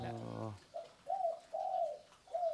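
A spotted dove coos several times in soft, rounded repeated notes, heard close after a short bit of speech at the start.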